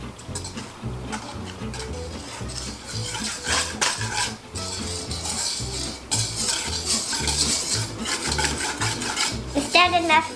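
Pancake batter being mixed in a bowl, a steady rhythmic clatter of a utensil scraping and tapping against the bowl that runs continuously and fairly close.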